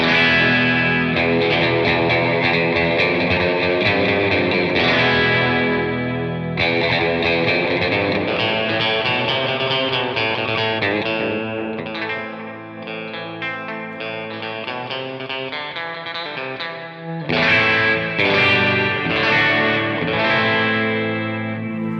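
Electric guitar through a Black Mountain volume pedal plays sustained, effects-laden chords and notes, with the level swelling and dipping as the volume shifts, then surging louder near the end.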